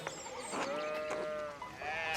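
Sheep bleat in a farming video game, a wavering, harmonic call repeated two or three times close up over faint background ambience, with no talking.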